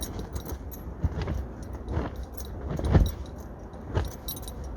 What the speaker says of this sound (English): the zips, obviously, as I mentioned before, they jingle a lot